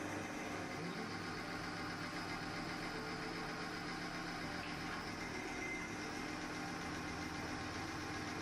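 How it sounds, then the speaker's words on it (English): A car engine idles steadily with Tirrent Booster added and dust introduced, a continuous even hum and vibration holding at a constant level throughout. "The engine is still running smoothly."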